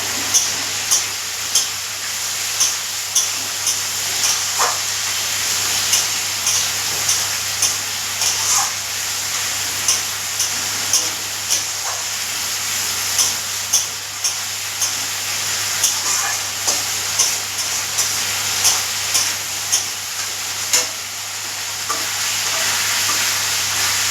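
Cauliflower frying in oil for a small batch of khichuri, with a steady loud sizzle and hiss running throughout, broken by regular scraping taps of a spoon stirring against the pan.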